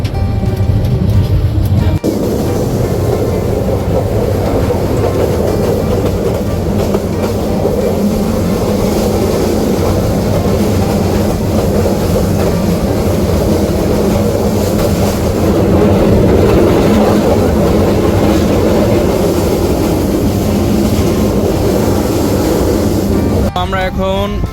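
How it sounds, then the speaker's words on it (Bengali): A moving passenger train on the Dhaka to Sylhet line fills the carriage with a loud, continuous low rumble and rattle. The noise stays steady for the whole stretch, with a brief change in texture at the start and the end. "ট্রেন কিন্তু অলরেডি ছেড়ে দিয়েছে।"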